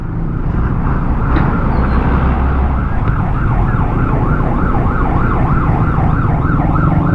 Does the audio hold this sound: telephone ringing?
no